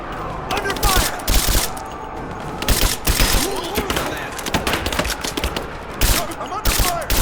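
Gunfire in the Rise of the Tomb Raider video game: rapid bursts of loud, sharp shots repeated throughout, with shouting voices between them in a chaotic firefight.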